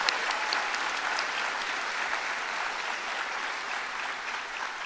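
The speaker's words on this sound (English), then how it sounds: "So can we please get a round of applause for all of our partners" A crowd at a health professions school commencement ceremony gives steady, sustained applause, dense and even, filling the whole stretch without a break.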